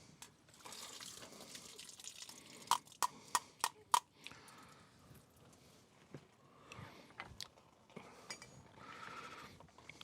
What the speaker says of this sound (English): that's been 20 minutes, so I've got to drain this into my pot down here.